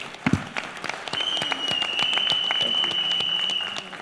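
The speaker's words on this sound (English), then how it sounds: "Let's give him another big round of applause." Audience applause at a CSK and India Cements corporate event, a light round of separate claps building over four seconds, with a steady high electronic tone running underneath.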